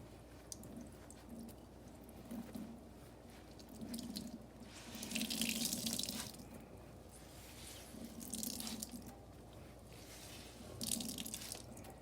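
Grated potatoes being squeezed in a cloth to press out the starchy water, giving faint wet squishing and trickling in slow repeated bursts, quiet and close, with no talking.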